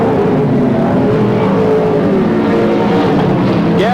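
Sprintcar engines roar around a speedway oval in a race from the 1983/84 season, a loud, continuous engine howl heard alone without talk.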